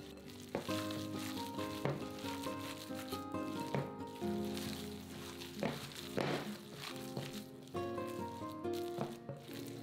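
Minced meat with onions, salt and pepper is mixed by hand in a bowl for menchi katsu, a steady wet squelching with soft slaps and crackles, close and continuous, with no talking.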